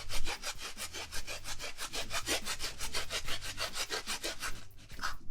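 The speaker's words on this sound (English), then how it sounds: "today I'm just gonna grate the onion onto the meat and my garlic as well" An onion is grated by hand onto raw meat, giving a close, steady rasping of quick regular strokes that carries on for about five seconds with no talking.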